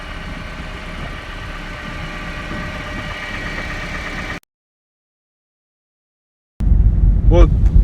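A Honda Freed drives along after spring spacers were fitted, its engine and road noise a steady, even hum with no rattling, broken by a short gap of silence before a louder burst resumes.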